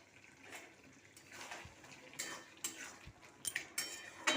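A lid goes onto a cooking pot of potatoes simmering in a little water for a poppy-seed dish with ridge gourd and prawns, giving faint, scattered metallic clinks and light clatter nearby.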